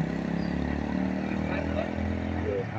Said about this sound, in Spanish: Una moto de todo terreno.